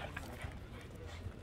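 Several dogs playing together at an outdoor dog park in Odessa, one a beagle, with low scuffling, faint yips and whimpers amid a busy, steady background murmur.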